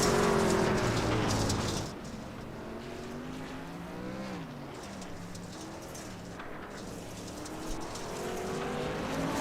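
Several race trucks circle a short track at moderate corner speed, their engines droning and shifting pitch as they pass, loud at first and then steady at a middle distance.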